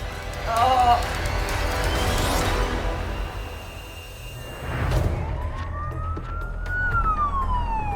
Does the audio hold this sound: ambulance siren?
yes